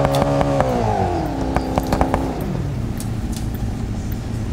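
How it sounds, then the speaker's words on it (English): Car engines in the BeamNG.drive video game rev and drone, pitch sliding downward as they settle into a steady rumble, with clattering and scraping knocks over the engine noise. "Listen to those engines"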